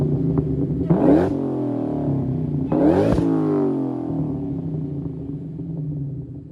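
A Ford Terminator Cobra fitted with a Borla exhaust revs hard twice, each blip rising sharply and then falling back into a loud, crackling and popping idle rumble up close, with no voices.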